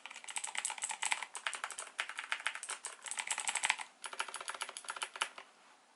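Fast, continuous clicky keystrokes from a Razer BlackWidow 2019 mechanical keyboard, close and crisp, with a brief pause near the end before the rapid typing resumes.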